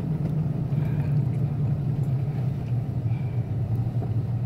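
Toyota truck driving in three-wheel drive mode, a steady low engine and drivetrain rumble with road noise, continuous and even throughout.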